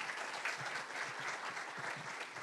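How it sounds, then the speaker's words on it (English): An audience at a healthcare conference claps steadily for the staff, a dense even wash of applause heard from a distance at low level, without voices. "So big round of applause for all the staff."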